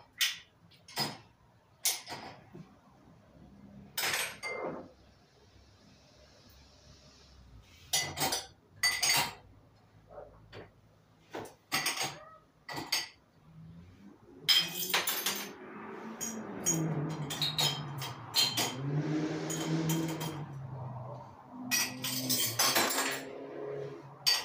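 Dishes being washed: repeated clinks of cutlery and plates knocking together, with stretches of running water in the middle, close by and intermittent.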